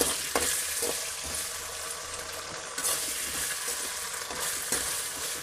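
Chopped onion and ginger paste fry in a pan with a constant loud sizzle, broken by occasional stirring scrapes.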